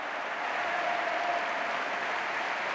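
Dense, steady applause from the crowd at a basketball arena, a continuous even roar of clapping with no pauses.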